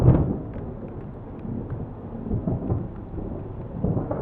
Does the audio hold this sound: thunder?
yes